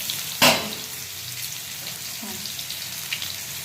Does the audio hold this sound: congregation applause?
no